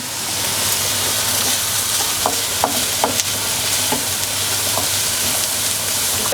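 Onion and bacon frying in a pan for spicy rice, a continuous loud hiss of sizzling fat with a handful of brief clicks and spatter pops, no talking.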